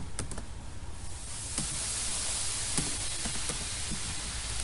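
Rapid typing on a computer keyboard, close and quiet, with crisp irregular clicks over a faint background hiss and no one speaking.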